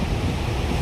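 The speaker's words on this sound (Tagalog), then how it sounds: "dito tayo sa Tangonan Beach" Ocean surf at Tangonan Beach in Claveria washes in a brief, steady roar, mixed with wind noise on the microphone.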